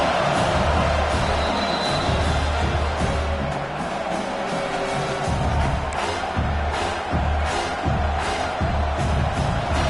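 A home crowd at a college football game roars in a loud, sustained wash of cheering and noise during a third-down defensive stand.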